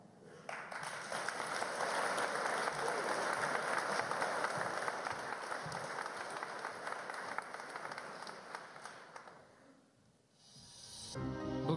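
Sustained applause from a large audience at a political party's campaign launch rally in Sofia, steady and dense for about nine seconds before fading, then rising again briefly.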